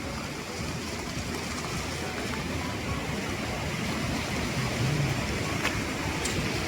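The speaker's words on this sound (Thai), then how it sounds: "ตอนนี้เราก็มาแวะนะครับฝนตกหนักมาก" Heavy rain pours at a waterfall viewpoint at Hundred Falls in Milford Sound, a dense, constant roar of falling water and rainfall, steady and close throughout.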